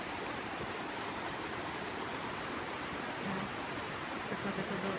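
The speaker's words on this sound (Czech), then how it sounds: "Tak tamhle to bude ten vodopád asi, ne?" Waterfall in Ukraine, a steady broadband rush of falling water that continues unbroken and fairly loud throughout, with no voices.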